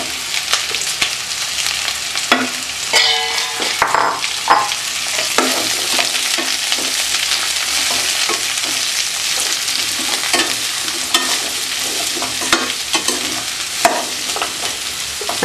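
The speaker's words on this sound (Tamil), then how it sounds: "நல்லா ஓரளவுக்கு நிறம் மாறுற அளவுக்கு நல்லா வதங்கி வருது" Vegetables sauté in a pan for coconut milk biryani, giving a constant loud sizzle broken by repeated scraping clicks from stirring that continue for about fifteen seconds.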